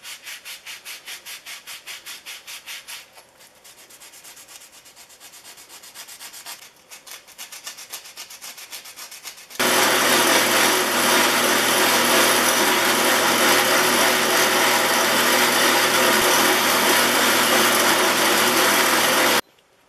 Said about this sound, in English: I'll be using a folded piece of sandpaper in the screw slots, a portion of the sanding sponge and the depth adjustment knob, and the wire wheel